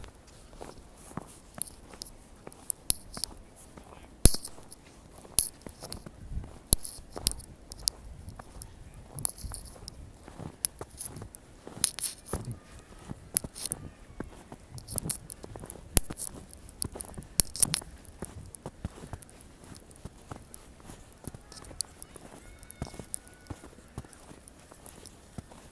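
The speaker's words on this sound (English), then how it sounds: "Here's the crunch of the snow here in the park." Shoes crunching through fresh, fluffy snow on a walk in Prospect Park, Brooklyn, with steady close-up footsteps in an uneven rhythm and faint rustling and mic handling, and no talk.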